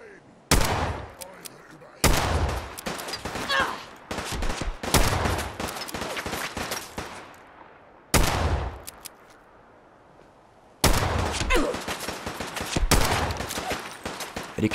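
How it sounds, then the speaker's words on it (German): Bursts of rapid gunfire and single shots from the video game Fallout 4 crack out in loud clusters, separated by brief quieter gaps, with a voice briefly audible between volleys. "Also ich höre Schüsse."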